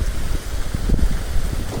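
Strong wind blows steadily across the microphone outdoors, a loud continuous rushing roar with gusty low thumps and no voices.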